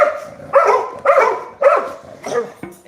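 Several dogs bark nearby in a steady rhythm, about five loud barks spaced roughly half a second apart with whiny yips between them.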